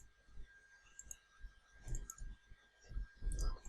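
Computer mouse clicking while SQL code for a MySQL inner join is copied, a few faint, sparse clicks spread irregularly over several seconds with quiet room noise between them.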